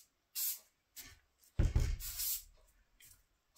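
Short hissing bursts of speckly silver Rust-Oleum spray paint coating a removed bike hub, several separate blasts with pauses, one longer spray in the middle, close and alone.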